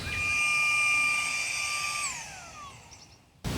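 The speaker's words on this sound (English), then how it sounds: "I had no idea that vacuuming bugs would be so cathartic to me." A garden vacuum sucking bugs off vegetable plants such as squash and zucchini, a loud close whine with steady high tones that hold, then slide downward and fade as the motor winds down, followed by a short bump at the end.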